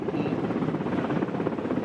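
A military helicopter nears the SKMJ school ground in Kalpetta, Wayanad, giving a loud, unbroken rotor roar with no talk over it.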